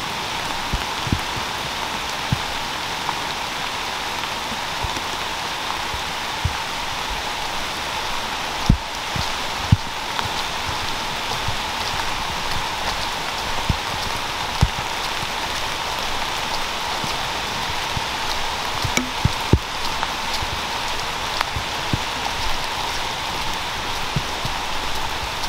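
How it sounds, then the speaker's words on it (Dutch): Steady rain falling, a dense continuous hiss with scattered louder drops and taps on nearby surfaces throughout, no voices. "Zeker niet als het regent."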